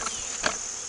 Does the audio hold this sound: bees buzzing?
yes